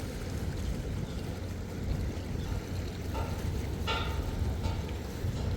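A boat moving on water near the Nayaru bridge site, heard as a low, steady rumble and wash under faint ambient noise, distant and continuous with a few brief clicks.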